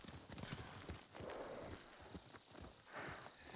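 Horses' hooves clip-clop at a walking pace in the video game Ghost of Tsushima, a steady, fairly close rhythm of hoof beats over a low ambient bed.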